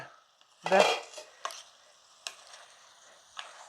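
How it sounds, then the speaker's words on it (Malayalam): Green beans being stirred in a cooking pan give a loud scraping burst, followed by a few brief clinks and scrapes of a utensil against the pan, with no talking. "നമുക്കൊന്ന് ഇളക്കിയിടണ്ടേ പയറ്"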